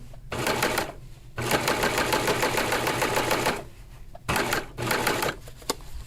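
Serger sewing machine stitching layered fabric into ruffles, fast rhythmic clattering in several bursts of varying length separated by brief pauses, close and fairly loud.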